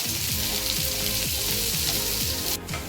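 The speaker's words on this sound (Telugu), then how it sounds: "తర్వాత పచ్చిమిరపకాయ ముక్కలు, తర్వాత ఉల్లిపాయ ముక్కలు వేసి సిమ్లో వేసుకొని వేయించుకోవాలి." Chopped green chillies and onions fry on a low flame in a pan, giving a dense, constant close sizzle with a faint rhythmic popping underneath, no voices.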